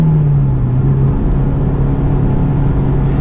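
A Honda S2000 engine is driven hard at around 5,000 RPM, giving a steady, loud, sustained drone from inside the car with a slight rise in pitch early on and no talking.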